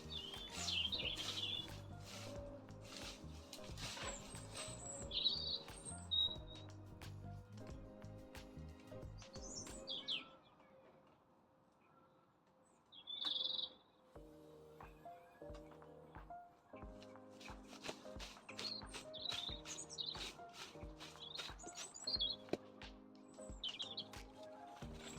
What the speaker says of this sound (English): Listen to the birds sing